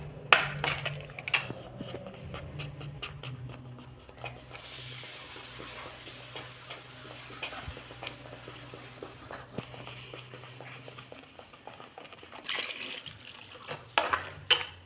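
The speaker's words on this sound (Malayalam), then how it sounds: "ആവശ്യത്തിന് വെള്ളം ഒഴിക്കുകയാണേ" Water is poured into a pan of Kerala-style mackerel curry in a faint, continuous trickle, with light clinks and small kitchen knocks around it.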